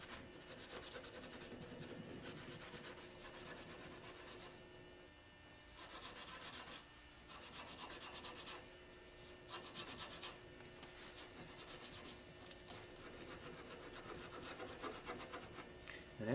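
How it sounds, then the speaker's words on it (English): A Scotch-Brite pad scrubs paint stripper residue off a surface in repeated bursts of close, dry rasping, pausing briefly between strokes, fairly quiet with no talk. "Final cleaning with a Scotch-Brite pad."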